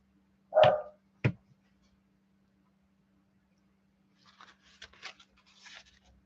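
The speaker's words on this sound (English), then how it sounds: "That's why they're barking." Two short, loud dog barks close by, set off by a passing delivery truck, followed after a pause by quieter scattered sounds in the distance.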